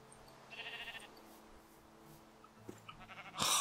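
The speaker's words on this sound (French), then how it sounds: "le mouton qui me gêne" A Minecraft sheep bleats in short, quiet wavering calls, with small game sounds and a sharp louder burst near the end, and no talking.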